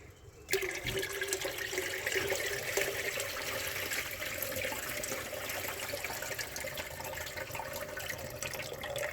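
Rinse water pours out of a rice pot into a sink after the rice is washed, a steady splashing, gurgling stream starting abruptly and continuing evenly at close range.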